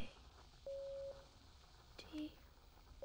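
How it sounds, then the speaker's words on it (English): Short electronic tones from a TV episode play in a Morse-like pattern, one longer beep followed by a brief lower one. They sound faint and thin, with occasional speech around them. "That's Morse code."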